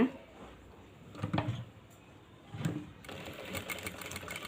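A sewing machine runs quietly while stitching fabric on a chudidar top, its soft whir rising in a couple of short bursts and then settling into a faint, steady hum at the end, with no talking.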